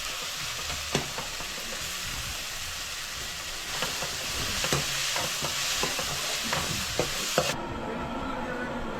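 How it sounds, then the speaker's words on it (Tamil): Murrel fish gravy with tomato and mustard seeds boils in a pot at sea, a close, steady bubbling sizzle broken by light knocks and scrapes of stirring. "பார்த்தீங்கன்னா குழம்பு அப்படியே கொதிக்குது"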